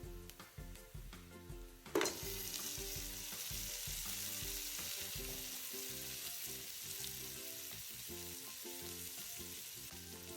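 Boiled beef dropping into hot spiced oil for a beef pilau: a sharp hiss as it lands, then a steady loud sizzle and crackle of frying close by, with occasional stirring scrapes and no talking.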